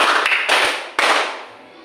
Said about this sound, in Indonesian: maka kalian lakukan 3 kali tepuk tangan. Dari kiri 1, kanan 1, dan atas 1.